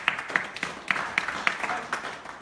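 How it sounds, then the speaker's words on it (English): A round of applause for Femi Okutubo, fairly faint, with a loose string of sharp claps standing out over a soft background patter for a couple of seconds. "Please can we give him a round of applause?"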